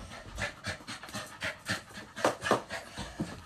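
A dog pants rhythmically and close by, with steady quick breaths about three per second, loud and continuous with no talking.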